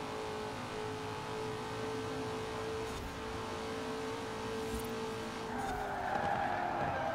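Tires skidding and squealing on a muscle car in the Forza Horizon 4 racing game, steady engine drone with a sustained screech that builds toward the end, loud and continuous with no talk.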